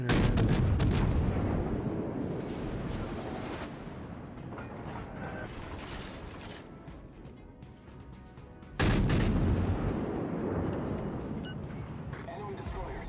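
Naval guns fire in the World of Warships video game. A heavy booming salvo opens with a long rumbling decay, and a second loud blast strikes near the end.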